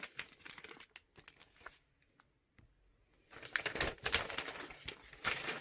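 Packaging for a Surface Laptop 3 crinkles and rustles close by in short bursts, goes nearly silent for a moment, then returns with louder, busier crackling and tearing.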